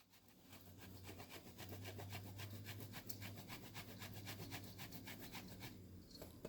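Parmesan cheese is grated in a rapid, rhythmic rasping scrape that keeps on nearly continuously for several seconds, close and fairly quiet.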